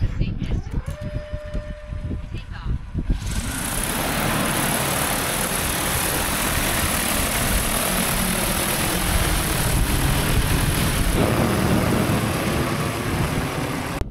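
A loud, steady propeller roar from an agricultural drone on a farm kicks in after a few seconds and drones on continuously, with a voice audible before it starts.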